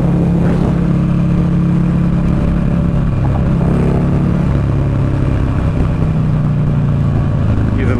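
A 2009 Buell Lightning Long XB12SS motorcycle being ridden produces a loud, continuous low engine drone with wind rush, the rumble rising and falling slightly throughout.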